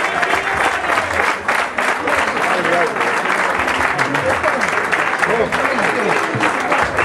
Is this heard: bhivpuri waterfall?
no